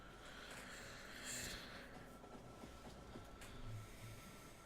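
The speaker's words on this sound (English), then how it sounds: "And this train should now go back to the depot" A train in the factory-building game Factorio rolls along in a quiet, steady mechanical rumble, with a couple of brief swells as it passes, soft and low in level.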